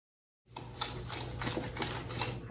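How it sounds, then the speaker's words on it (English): Melted butter being whisked in a bowl for banana bread, a steady run of rhythmic tapping and swishing strokes of moderate loudness, starting abruptly after a short silence. "You're gonna take a whisk and just kind of mix that lightly."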